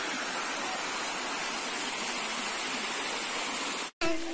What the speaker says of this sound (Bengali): তো আপনার ঝর্ণা এই একমাত্র আওয়াজটা ঝর্ণার সামনে আসলে পাওয়া যায়।